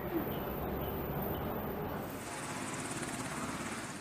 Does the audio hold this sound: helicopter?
yes